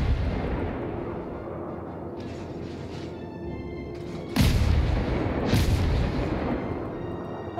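Naval gun salvos from warships in World of Warships, including a cruiser, rumble under a steady low engine and sea drone, with two sharp heavy booms breaking out near the middle and a lingering roar after each.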